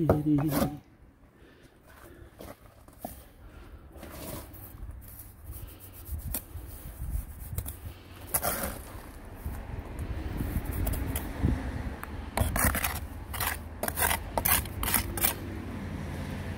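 On a building site, a bricklaying trowel scrapes and rubs against mortar and brick while laying to a line, repeated gritty scrapes and taps up close, with some steady background noise.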